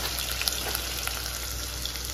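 Steady frying sizzle of onions and tomatoes sautéing in a hot pan, continuous and close, with faint occasional crackles and no voices.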